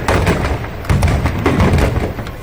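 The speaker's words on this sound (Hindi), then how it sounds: "रावण के पुतले में ही बड़े बड़े पटाखे जो है वो लगाए गए थे, वो चलाए गए" Large firecrackers packed into a burning Ravana effigy at a Dussehra celebration go off in loud, dense crackling bursts with heavy thumps, a continuous barrage close by.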